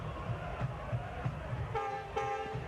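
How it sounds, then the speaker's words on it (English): A Canadian National freight train rolls past a soccer ground in Detroit during a match. Its horn sounds twice toward the end, each blast a sustained tone over a steady murmur of crowd noise. "the Canadian national train comes rolling through."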